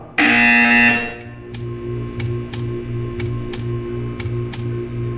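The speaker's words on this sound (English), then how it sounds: "You will hear a buzzer." A loud, flat electronic buzzer in Portal 2 blares for nearly a second, then cuts off, leaving a steady hum and a series of sharp evenly spaced ticks.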